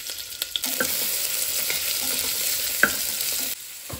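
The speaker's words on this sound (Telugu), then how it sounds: "నెక్స్ట్ ఇప్పుడు ఆనియన్స్ యాడ్ చేసుకుంటున్నాను." Onions sizzle steadily in hot oil with cumin, cinnamon, cloves and bay leaf for a bagara rice dish, producing a continuous close frying hiss with a few scattered pops and stirring clicks.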